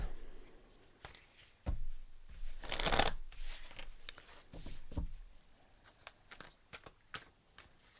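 Close, quiet tarot card shuffling: soft riffles and taps at irregular intervals, with one fuller shuffling burst near the middle and no talking.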